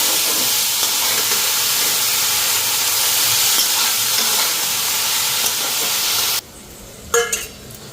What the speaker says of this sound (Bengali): পেঁয়াজটা ফ্রাই করছি।